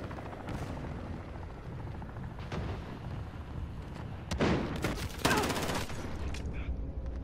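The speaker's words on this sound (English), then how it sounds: "Enemy chopper gunner on approach." A helicopter gunship bears down in a video game battle, its rotor roar blended into a dense wash of gunfire and explosions that swells and cracks louder in the second half.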